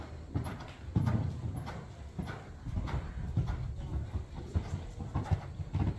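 Horse cantering around a riding arena, hooves clip-clopping in a steady rolling rhythm of muffled thuds, fairly close and continuous for the whole stretch.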